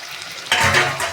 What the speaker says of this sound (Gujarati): ડુંગળીને થોડું સંતળાઈ ના જાય ત્યાં સુધી એને હલાવતા રહીશું।